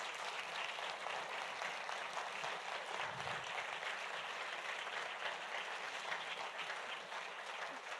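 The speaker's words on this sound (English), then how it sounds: "Can we give them a round of applause again?" A book-event audience applauds in a steady, even wash of clapping that holds at a consistent moderate level for the whole stretch, with no voices standing out.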